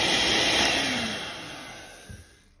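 A steady, high-pitched electric whirring of a mixer whipping egg whites for meringue, loud and close, tapering off and falling quiet at the very end.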